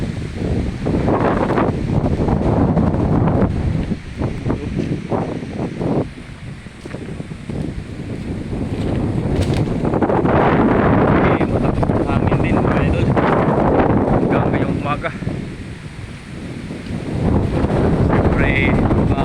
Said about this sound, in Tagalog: Malakas din ang hangin mga idol.